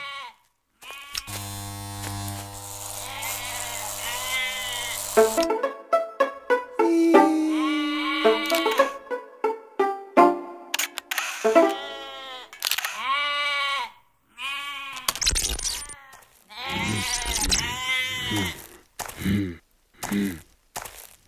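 Sheep bleating in a run of wavering, repeated calls, close and fairly loud, with an electric buzzing hum in the opening seconds; the sheep is a shorn one without its fleece.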